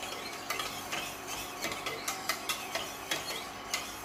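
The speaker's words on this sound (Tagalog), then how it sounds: "Kailangan pa na yung halo kasi maninikit po yung ano, harina sa ilalim." A spoon scrapes and stirs a thick flour-based sauce in a pan in rhythmic clicking strokes, roughly eight sharp scrapes over a few seconds, close and clear with no talking.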